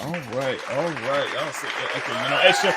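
Crowd applause and cheering rise and stay steady, with a voice calling out over the clapping throughout.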